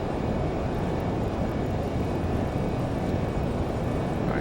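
Twin jet engines of a Lear 35A roaring steadily at takeoff power during the runway roll in gusty crosswinds, a dense, loud, unbroken rumble with no voices.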